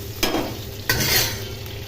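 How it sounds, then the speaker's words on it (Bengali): Potatoes frying in a pan, a steady close sizzle broken by two sharp stirring scrapes, no one speaking. "আলুগুলো ভেজে নিচ্ছি তরকারি।"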